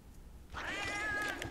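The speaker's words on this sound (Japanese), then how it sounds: "あー、クソ猫、クソ猫、" A cat meows in the Monster Hunter 2 video game, a single drawn-out rising and falling call that starts suddenly after a quiet moment and holds fairly loud for about a second.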